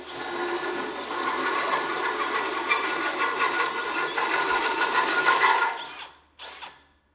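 A cutter grinds steadily through the end of a salvaged axle, guided by a scrap piece, producing a continuous loud metallic whine for several seconds before cutting off, followed by a short final burst.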